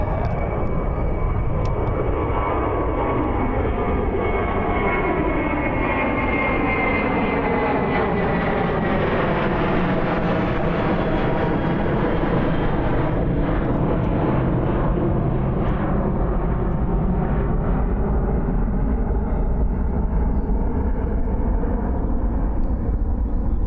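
A fixed-wing airplane landing on runway 02 at Christchurch airport, its engine roar loud and steady throughout, swelling and slowly shifting in pitch as it passes close by.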